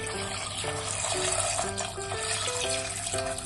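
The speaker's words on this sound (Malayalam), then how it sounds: "നികന്ന് കിടക്കത്തക്ക രീതിയിൽ വെള്ളം ഒഴിച്ചു" Water poured into a pressure cooker over chickpeas, a continuous splashing pour with a faint rising pitch as the pot fills, heard alone without speech.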